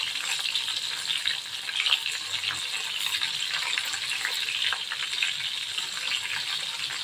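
Stuffed bitter gourds fry in a pan with a steady bright sizzle and occasional light scraping as a spoon turns them, close and continuous.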